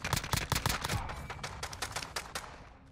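Rapid gunfire in a shooter video game, a dense burst of sharp cracking shots in quick succession that gradually thins out and fades over about three seconds.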